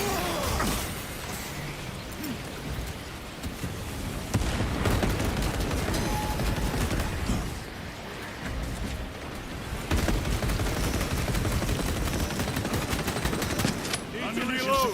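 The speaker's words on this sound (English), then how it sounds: "Frag grenade out!" Gunfire and explosions in the Warhammer 40k Space Marine 2 video game, dense sustained bursts of shooting and rumbling blasts layered throughout, loud and continuous with game voices mixed in.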